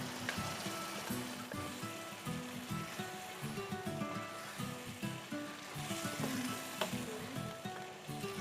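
Cooked mash dal goes into a karahi of fried masala, raising a continuous frying hiss and sizzle with a low steady hum underneath and a few faint clicks.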